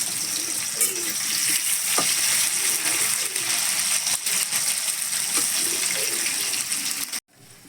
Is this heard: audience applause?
no